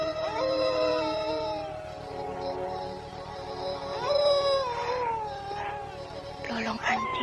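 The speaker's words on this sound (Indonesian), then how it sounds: "Lolong anjing." A dog howling in an Indonesian mystery radio drama set in a haunted valley: long, wavering howls rising and falling over about seven seconds, with a steady low hum beneath and brief overlapping cries near the end.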